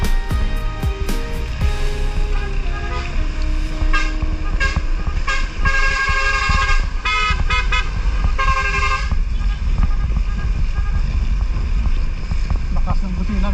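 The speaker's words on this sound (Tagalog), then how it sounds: "Lakas ng busina ng truck." A truck horn blares loud and close on a rainy road trip through the Philippine province of Bulacan, a series of sustained honks in the first several seconds over road and engine rumble, with a faint voice.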